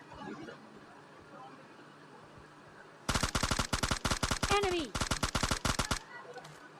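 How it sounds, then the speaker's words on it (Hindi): Rapid automatic gunfire in PUBG Mobile Lite during a solo-versus-squad fight, a dense burst of shots for about three seconds after quiet game ambience, loud and close, with a short pause midway. "सामने से भी फायरिंग आती है"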